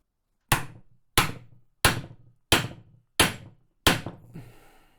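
Six sharp, evenly spaced hammer blows drive a tight 38mm Alcon piston into place, each strike ringing briefly and decaying before the next; close and loud with no talking.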